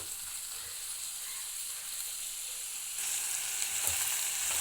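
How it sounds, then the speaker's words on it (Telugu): Onions frying in hot oil for an egg curry, a steady broadband sizzle that grows louder partway through, with a faint stirring scrape near the end and no talk. "ఆయిల్ వేడైన తర్వాత ముందుగా ఆనియన్స్ మొత్తం ఆనియన్స్ వేసేసి కలపండి"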